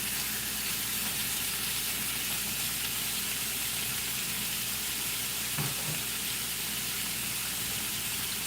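Steak sizzles loudly in a hot pan with a broad, continuous hiss that stays even from start to finish, with one brief thump partway through.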